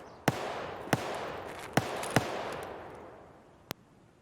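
Gunshots in Escape from Tarkov ring out as five sharp cracks with irregular gaps, four close together and a last one after a pause, over a faint wash of forest ambience.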